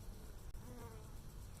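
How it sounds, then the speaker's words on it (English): A bee hums faintly close by, a steady low buzz lasting a moment with a brief tick partway through, over quiet room noise. "It's some kind of bee."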